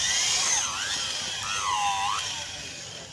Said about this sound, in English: So we are going to drill a hole, but this thing is a bit long